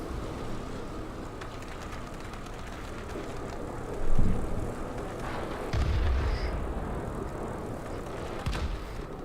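Fighter plane engine in the World of Warplanes game drones steadily throughout, with heavier booms of gunfire or explosions near four and six seconds and a brief burst near the end.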